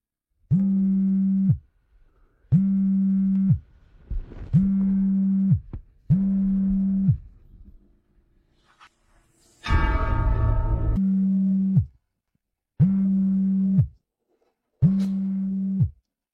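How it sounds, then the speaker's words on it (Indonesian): A telephone rings repeatedly with a steady electronic tone in regular bursts about a second long separated by short pauses, loud and close, broken midway by a brief harsh burst of other noise. "Kenapa tidak kau angkat? Hei! Itu telepon pengganggu lagi."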